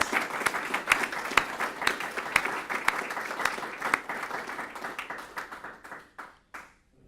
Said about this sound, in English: Let's give a round of applause to all of those student award winners